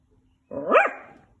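A dog gives a single close, clear bark with a slight whine to it, heard in a storybook reading after a moment of near silence.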